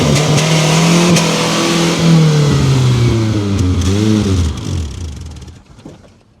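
A Nissan truck engine running rich off-road, revving in a loud rising and falling drone that swells, wavers through a few throttle pulses and then fades away, with no talking.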